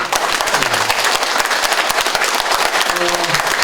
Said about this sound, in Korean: 여러분 박수로 격려 한번 해주십시오